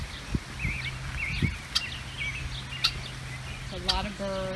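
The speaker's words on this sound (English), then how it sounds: "A lot of birds." Birds chirp and call at a farm animal sanctuary, short tweets and a red-winged blackbird's song scattered over quiet outdoor ambience, with a person speaking briefly near the end.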